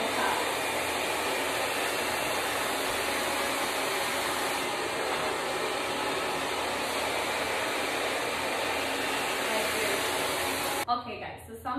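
A handheld blow dryer runs steadily and close while curly hair is dried over a brush, a continuous breathy roar that holds unchanged for about eleven seconds before cutting off with a clunk.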